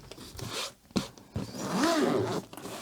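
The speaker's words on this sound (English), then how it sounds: "we do have this double zipper" A double zipper on a fabric diamond painting storage case is pulled in several quick, scratchy strokes, close up, with rubbing fabric sounds between the pulls.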